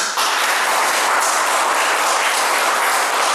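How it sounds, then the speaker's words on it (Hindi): A crowd applauds at a book launch at the Nehru Centre, a loud, dense and continuous burst of clapping from many hands that holds steady throughout. "हम सब तालियां बजा के स्वागत करते हैं"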